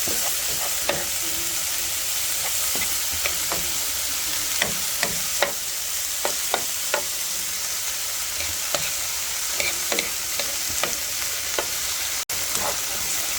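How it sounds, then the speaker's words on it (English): Garlic sizzles in a pot over medium-high heat for chicken and sausage gumbo. A steady crackling fry runs throughout, with frequent scraping stirs repeating at a regular pace. No one speaks. "And you also want to keep this moving around Don't let the garlic burn."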